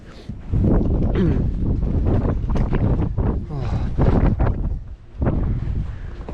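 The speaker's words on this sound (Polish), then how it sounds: "Wieje, nie?" Strong wind gusts buffet the microphone on a snowy winter mountain trail, roaring in surges that rise and drop with brief lulls, while a voice speaks over it.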